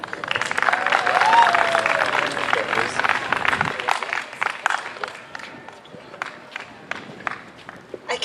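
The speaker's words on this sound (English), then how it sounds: "Can we give him another round of applause?" An audience at a university speak-out event breaks into applause that starts full and thins into scattered individual claps, with some voices and movement mixed in.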